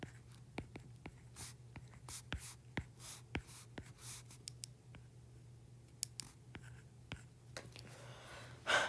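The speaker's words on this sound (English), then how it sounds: "So I'm going to write that out so I just remember." Pen writing out geometry notes on paper, a quiet close scratching with rapid taps and strokes in irregular bursts, faint and alone, with a low steady hum beneath.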